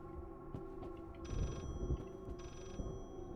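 A telephone rings in the horror game Layers of Fear, two short electronic ring bursts about a second apart, moderately loud over a low, droning ambient hum.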